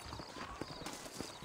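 Horse hooves clip-clop at a steady gait in Red Dead Redemption, running on PS5 in the New Austin region, with even, close beats over a dense ambient game backdrop.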